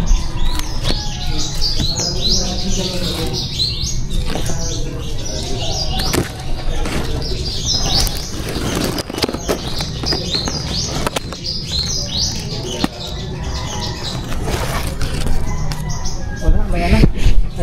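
Red mayang palay munias chirp and twitter in rapid, overlapping bursts close by, with brief wing flutters among the calls and no speech over them.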